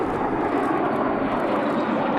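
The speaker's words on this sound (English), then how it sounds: "4 jets soared by with 1 peeling off in the missing man formation" Military jets roaring overhead in a missing man formation flyover at an Arlington National Cemetery service, a loud, steady, broad engine rumble that fills the whole moment, with no break.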